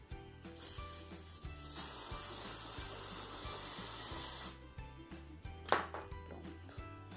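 Aerosol spray hissing onto a felt letter keychain, one long steady burst lasting several seconds, loud and close, over a rhythmic mechanical clicking and no voices.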